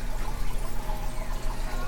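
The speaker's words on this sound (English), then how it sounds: "Small koi pond, little waterfall." A small waterfall trickles and splashes into a koi pond inside an aquarium fish store, a steady close watery patter with a low hum underneath.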